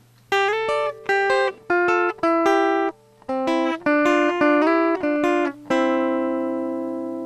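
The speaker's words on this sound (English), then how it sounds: "pick the strings one after the other rather than together" Clean electric guitar notes fingerpicked one after another, without a pick, in a steady arpeggio pattern, closing on a held chord that rings out and slowly decays.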